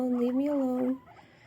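A guinea pig gives a squeaky, high-pitched vocalization during an introduction to other guinea pigs, a single wavering call about one second long, faint and close, then fading into quiet room noise.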